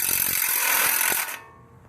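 A ratchet wrench clicks rapidly and close up while tightening ball joint bolts on a 2002 first-generation Toyota Tundra, a burst of metallic ratcheting that stops abruptly.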